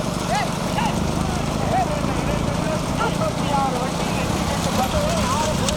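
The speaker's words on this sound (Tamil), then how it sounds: "மாடு இங்கிட்டு தான் வருது" Bulls pulling a cart thunder past in a bullock cart race, their hoofbeats a busy, continuous clatter under loud crowd shouting and constant talk throughout.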